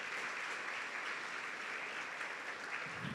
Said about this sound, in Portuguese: Então aplauda o Senhor enquanto eu vou tomar mais um café.